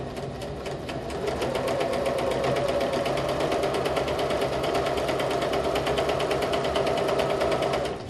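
Sewing machine running steadily at close range, stitching a zigzag across a piece of fabric with a fast, even mechanical chatter that continues unbroken throughout, with no talking.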